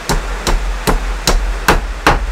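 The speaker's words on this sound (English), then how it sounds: "Take a hammer." Six evenly spaced, sharp hammer blows drive a wooden dowel into a log for growing shiitake mushrooms, each strike loud and close with a brief ring, with no talking.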